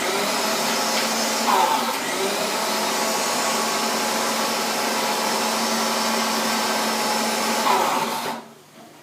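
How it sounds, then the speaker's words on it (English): Spice grinder whirring as it blends coconut, yogurt and cumin into a paste for Kerala pineapple curry, a loud steady motor roar that runs for several seconds and then cuts off. "You may need to push down the stuff that climbs up the sides of the grinder a couple of times."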